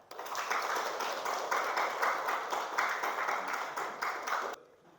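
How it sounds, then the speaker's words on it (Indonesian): A classroom of students claps for a student named Tessa, steady loud applause that lasts about four and a half seconds and then stops sharply. "Ya, berikan tepuk tangan untuk Tessa."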